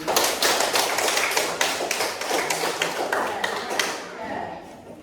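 Students in a classroom clap together after the teacher calls for applause. The dense, fast patter stays close and fairly loud for about four seconds, then thins out and fades.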